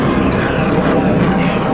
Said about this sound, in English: jet engine